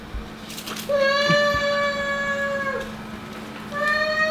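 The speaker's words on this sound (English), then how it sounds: "Every cat in here has a corner. There's another cat up there." A cat on a street in Chania, Crete, gives a drawn-out, tonal meow lasting about two seconds, then starts a second meow near the end, close and clear over quiet background.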